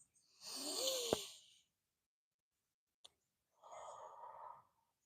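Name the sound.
deep breathing during yoga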